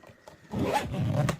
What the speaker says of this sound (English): it zips up at the front like this